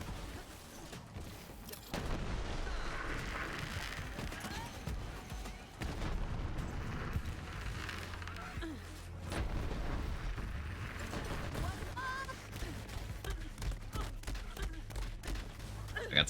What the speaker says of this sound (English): Comically large red explosions.